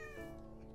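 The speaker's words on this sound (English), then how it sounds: "Oh, there's a cute cat!" A short cat meow from the video game Minecraft, a single tonal call with a falling pitch, heard close and fairly clear.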